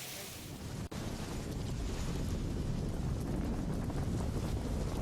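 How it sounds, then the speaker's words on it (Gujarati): Heavy rain pours down on flooded streets in Lathi, Gujarat, a dense, continuous roaring wash of water that stays loud and steady throughout. "લાઠીમાં ધોધમાર વરસાદથી ચોતરફ પાણી ભરાઈ ગયા"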